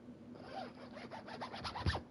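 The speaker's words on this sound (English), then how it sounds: "Hear my zipper on my jacket." A jacket zipper is pulled in one quick run of rapid ratcheting clicks, close and clear, lasting about two seconds with no talking over it.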